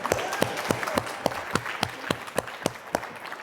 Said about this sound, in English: And a big round of applause for you staying here and being committed to yourself.